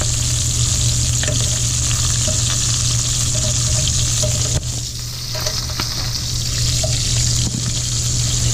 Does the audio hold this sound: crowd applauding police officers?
no